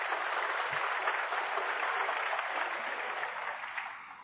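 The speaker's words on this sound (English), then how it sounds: "Applause for frame ball." Crowd applause at a snooker semi-final in Shanghai, a dense, even wash of clapping from the arena audience that holds steady and then tapers off slightly toward the end.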